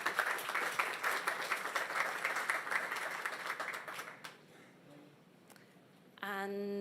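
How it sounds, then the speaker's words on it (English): Audience at a resilience science event in London giving a round of applause, dense clapping for about four seconds that fades out, followed by quiet, a few scattered claps, then a tonal sound at the end. "let's give everyone a big round of applause."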